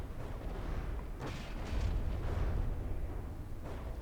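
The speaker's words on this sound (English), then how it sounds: "And now they turn onto the target and explosions start to happen." Missile explosions in the From The Depths game form a dense rumbling barrage, with a few sharper booms rising above a continuous low roar.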